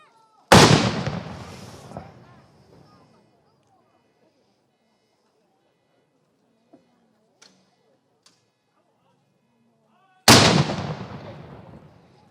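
Ceremonial Australia Day gun salute: two loud booming shots about ten seconds apart, each with a long echoing tail, and near-silence between them apart from faint clicks.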